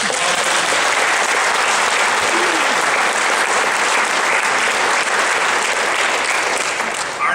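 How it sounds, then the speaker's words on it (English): Steady, loud applause fills a graduation service for the full stretch, a continuous dense wash of clapping from a large audience without a break. "Let's have a good round of applause."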